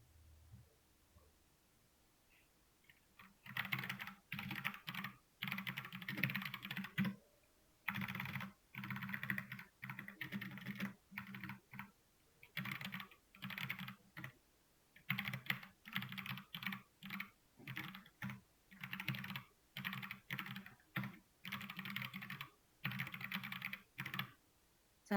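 Typing on a computer keyboard during a lecture: quiet, close key clicks come in quick, uneven bursts separated by short pauses, with no talk over them.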